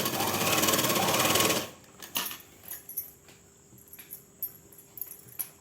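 A tailoring sewing machine stitches a plain seam on a salwar pant in one loud continuous run, then stops, leaving scattered light clicks and handling of cloth and parts.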